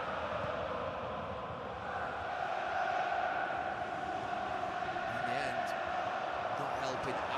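Large football crowd at an Arsenal versus Manchester City match, a steady roar of thousands that swells slightly louder midway and holds, dense and continuous across the whole stretch.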